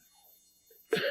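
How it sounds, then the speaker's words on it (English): A single sharp cough bursts out near the microphone from a wrestling commentator on a headset, following a stretch of near silence. "Coughing."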